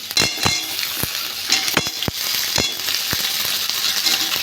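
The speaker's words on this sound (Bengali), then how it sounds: "ওর মধ্যে কচুরমুখিগুলো দিয়ে দেবো" Taro roots tumble into potatoes already frying in hot oil, setting off a loud continuous sizzle punctuated by sharp clinks and knocks of a utensil against the pan.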